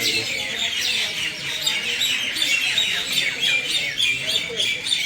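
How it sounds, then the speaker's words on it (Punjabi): A dense chorus of many sparrows perched overhead at a station, chirping and tweeting rapidly at once, busy and fairly loud, over a low background murmur. "ਚਿੜੀਆਂ ਚੂ ਚੂ ਕਰਦੀਆਂ ਨੇ ਉੱਪਰ ਬੈਠੀਆਂ ਨੇ"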